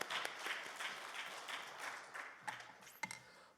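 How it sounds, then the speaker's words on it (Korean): Church congregation applauding at a prayer retreat, a moderately distant, fairly quiet patter of many hands that thins toward the end into a few separate sharp claps. "할렐루야로 하나님 앞에 영광의 박수를 드립니다"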